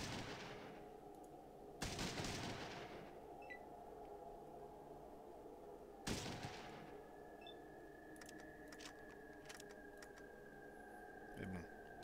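Burst gunfire in the Fallout 2 video game, loud rapid blasts at about 0, 2 and 6 seconds, with a faint tonal hum and small clicks between them.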